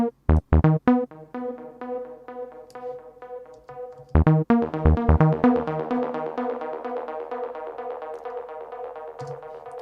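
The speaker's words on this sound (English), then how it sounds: "So the quarter one is a 1 beat delay, so a quarter of a bar, which sounds like this." A techno sound in Ableton sent through a quarter-note stereo delay with a little reverb: plucked synth hits followed by clear echoes repeating one beat apart and trailing off, alone with no voices.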